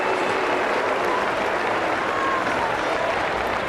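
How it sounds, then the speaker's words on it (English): A tennis crowd at London 2006 makes a sustained, loud, dense roar that holds steady throughout, with no distinct voices standing out. "Boos from the crowd"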